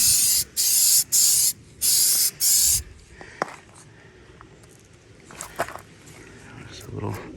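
Spray paint is applied in light coats to the aluminum part of a Toyota Tacoma running board, heard as four short, loud, close hissing bursts, followed by quieter handling clicks and faint rustling.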